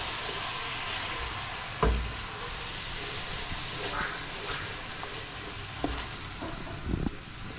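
Curry spices sizzling in a large pot for a Durban-style beef curry for 30 people, a steady hissing fry with occasional clanks and thumps from utensils and some quiet talk.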